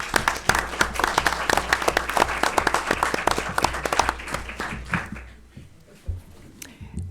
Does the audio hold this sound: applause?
yes